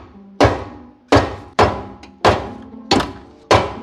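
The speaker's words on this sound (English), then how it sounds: "Got another hammer." A hammer strikes a frozen polyurethane suspension bushing on a G35 Coupe during a VK56 engine swap, landing six loud, close, heavy metallic thunks at a steady rhythm, each ringing out briefly.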